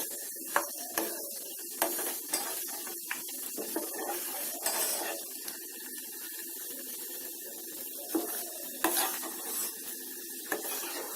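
Hibiscus flowers frying in oil in a pan for a homemade anti-hair-fall oil, giving a steady soft sizzle broken by repeated clinks and scrapes of a stirring utensil against the pan.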